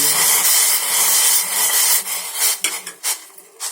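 Water with cloves and cinnamon boils in a pot for a cold remedy, giving a loud, steady bubbling hiss that breaks into a few clinks and scrapes toward the end.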